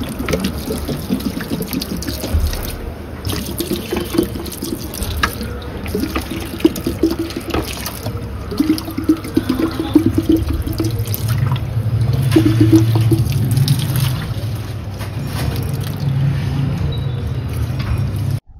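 Water running steadily from a tap or hose to water plants in the morning, a continuous close splashing and gurgling flow that gets a little heavier toward the end, with no voices.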